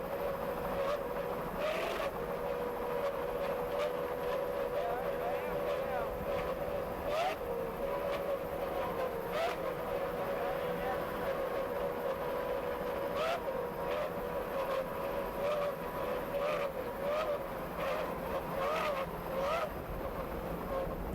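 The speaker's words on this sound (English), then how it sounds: "Those Evinrude outboards sound excellent." Evinrude outboard engines drive the Tiger Cat racing boat in S-Class, a steady droning roar that stays level the whole time at a moderate distance.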